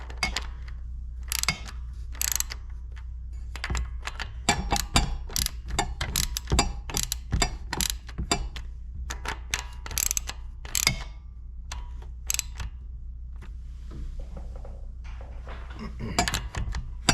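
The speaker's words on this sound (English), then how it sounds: "I like to grip the ratchet head up here." Ratchet clicking in short bursts of small turns while snugging a water pump on a John Deere 355, close and fairly crisp, with brief pauses between runs of clicks and a steady low hum underneath.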